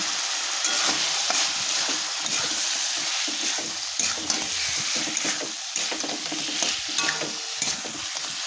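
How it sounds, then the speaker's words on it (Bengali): Fried mutton sizzles loudly as it is added to spiced oil in a pan, with steady broadband frying hiss and scraping stir sounds throughout, close and continuous, no voices. "তো এই পর্যায়ে আমি দিয়ে দিচ্ছি ভেজে রাখা মাটন।"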